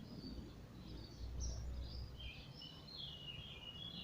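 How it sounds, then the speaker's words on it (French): Faint small birds twitter in short scattered bursts at a distance, layered over quiet outdoor ambience and low background rumble during a muscle-strengthening workout. "Je vous laisse entendre des petits oiseaux."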